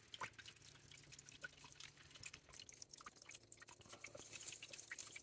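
Spring water trickles out of rocks near a small cave on a lake property, a faint, close patter of drips and small splashes that continues unevenly with no one talking.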